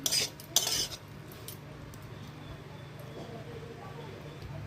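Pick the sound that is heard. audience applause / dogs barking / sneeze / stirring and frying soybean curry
stirring and frying soybean curry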